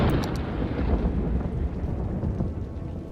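Rain and rumbling thunder in the city-building game Cities: Skylines make a dense, steady low roar that fills the whole stretch, with a few brief crackles at the very start.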